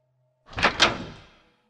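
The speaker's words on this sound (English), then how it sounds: "The distinct use of a keycard and my door opening up." A hotel-style keycard door unlocks and swings open in two close, solid clunks that trail off, loud and near in an otherwise quiet room.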